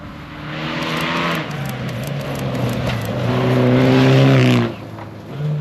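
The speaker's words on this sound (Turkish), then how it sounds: "Bir araç daha geliyor. Ama baya büyük." A rally car roars past on a dusty gravel stage at the Istanbul Rally, engine note building loud and close with rising revs before dropping away as it passes.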